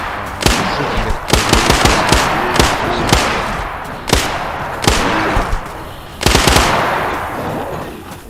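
Video game gunfire crackles in repeated bursts of rapid shots with sharp louder reports mixed in, loud and close, continuing throughout with a busy noisy backdrop.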